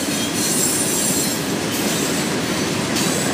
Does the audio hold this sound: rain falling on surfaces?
no